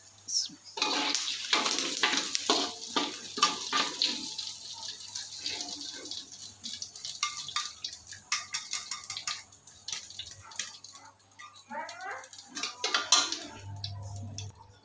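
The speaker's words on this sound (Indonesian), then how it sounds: "Kita goreng hingga matang." Squid frying in oil in a covered pan, a steady crackling sizzle with scattered pops running throughout, fairly close, with occasional stirring clatter and no talk.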